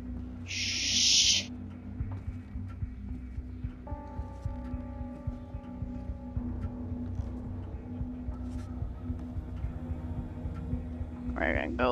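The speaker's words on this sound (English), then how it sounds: "since that bird was making too much noise" An owl hoots in the stealth game Thief, a low steady call over a humming, throbbing ambient game soundscape, with a brief bright burst near the start.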